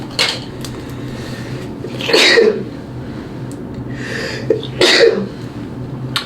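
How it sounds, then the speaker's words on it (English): Two sharp sneezes, one a few seconds after the other, close and loud, with quiet room noise in between. "I'm about to sneeze."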